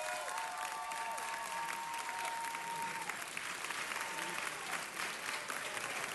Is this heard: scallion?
no